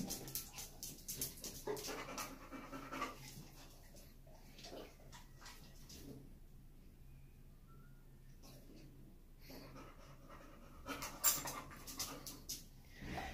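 A dog pants softly at a veterinary clinic, quick breaths rising and falling at low volume with brief whimpery sounds, quieter stretches in the middle and a sharper burst near the end.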